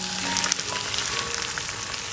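Beaten eggs hit a hot pan of okra and garlic and sizzle loudly and continuously, a steady crackling fry with no voices.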